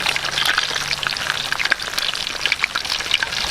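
Hot oil sizzles and crackles in a pan while a paper bag with chicken inside fries, a dense, continuous spattering heard up close with no voices.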